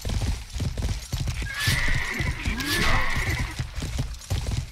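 Rapid clip-clop of galloping horse hooves in the medieval video game Life is Feudal: Your Own, with a horse's whinny rising midway, plus metallic ringing tones and loud busy action sounds during a fight.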